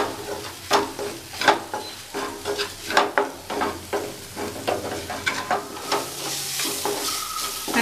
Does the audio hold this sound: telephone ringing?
no